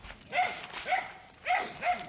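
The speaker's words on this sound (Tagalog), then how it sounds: "tahol na aso doon sa kabila" A dog barks a few times from across the way, medium-distant, in an outdoor rural setting by a hut; four clear yelping barks spaced roughly evenly over two seconds.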